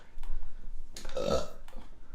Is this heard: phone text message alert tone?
no